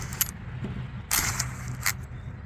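A retractable ratchet strap zips back into its housing quickly with no tension on it, giving brief metallic rattling clicks and whirs in short bursts, close and fairly quiet.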